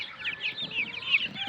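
Several chickens cluck and chatter together in a continuous, busy murmur, fairly close, with no talking.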